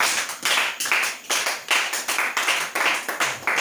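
Church congregation claps rhythmically in a steady, repeated beat of sharp hand claps, many hands together filling the room, no talking over it.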